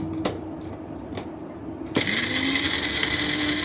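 A kitchen blender chops seasoning paste with a little oil and no water for chicken meatballs, starting with a sudden loud whirring motor after a few faint clicks and handling noises, then running steadily to the end.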